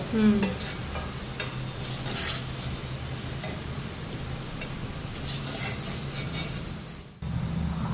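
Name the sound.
cluster beans (guar) frying in oil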